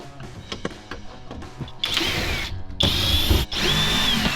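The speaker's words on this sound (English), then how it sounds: "got my new M12 hammer drill ready to rock and roll" A cordless M12 hammer drill works inside a rust-damaged limousine, starting with light clicks and rattles, then running in loud, close whirring bursts with brief pauses between them.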